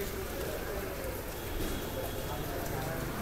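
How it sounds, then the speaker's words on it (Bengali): Heavy rain pours outside a building in Uttara, Dhaka, making a constant, even hiss of drops on surfaces throughout, with faint voices murmuring underneath. "প্রচন্ড পরিমাণে বৃষ্টি পড়তেছে"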